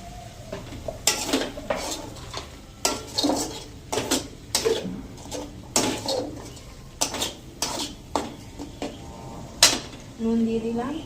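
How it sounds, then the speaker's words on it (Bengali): A spoon scrapes and clanks against a pan as spice masala is stirred and sautéed over low gas, with repeated metallic knocks in an irregular rhythm over a soft background sizzle, close and fairly loud. "এটা মশলাটা আমি কষিয়ে নিচ্ছি"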